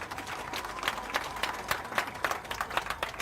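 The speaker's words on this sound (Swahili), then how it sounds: "Tuwapigie makofi all ambassadors." An audience at a Chepsaita cross country event applauds the ambassadors, a quiet, steady patter of many hands clapping from a distance for a few seconds, with faint crowd murmur beneath.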